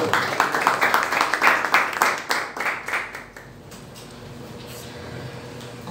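A church congregation claps in rhythm, loud and close at first, then the clapping thins and fades after about three seconds into a quieter murmuring room.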